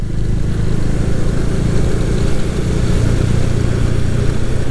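A motorcycle rides slowly along a muddy, rain-soaked mountain road between Jammu and Srinagar, its engine droning steadily and close throughout, with no talking.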